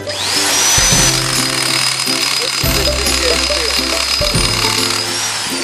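Handheld nibbler cutting 16 gauge sheet metal, a loud, steady buzzing chatter with a whining motor tone running throughout, its lower pitch shifting in three stages as the cut proceeds, close up.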